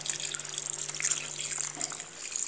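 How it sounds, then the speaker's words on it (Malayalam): Water pours from a vessel into simmering Kottayam-style fish curry in a pot, a steady close trickle and splash with a bright hiss, continuous and alone. "ഇത്തിരി വെള്ളം കൂടെ ഒഴിച്ചു കൊടുക്കാം."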